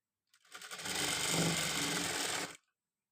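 A sewing machine runs in one continuous burst of about two seconds, stitching along the double-folded side slit of a chudidar top; the whirring motor hum is steady and close, with a brief start and a clean stop and no talk.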